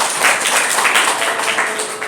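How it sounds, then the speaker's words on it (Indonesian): A crowd applauds steadily and fairly loudly at a campus gathering, with dense clapping holding an even level for about two seconds and no voices breaking through. "Tepuk tangan dong."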